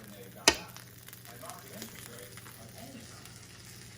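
Floured venison sizzles steadily in a pan, a soft continuous frying hiss opened by a sharp clack as the meat goes in, with low voices in the background.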